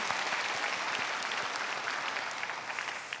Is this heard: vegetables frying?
no